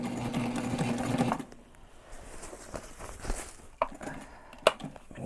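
A sewing machine stitches backpack fabric in a fast steady whir for over a second, then stops, leaving quiet handling knocks and a couple of sharp clicks.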